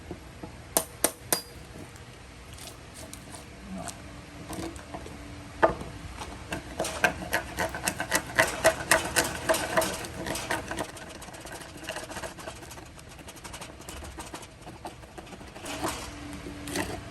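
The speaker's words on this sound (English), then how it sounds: "Using my 25-year-old Craftsman chisels that I got to work on my first house." Old Craftsman hand chisels cutting wood for post mounting, heard as a series of sharp taps and knocks with bursts of rapid strikes, fairly close and with no talk.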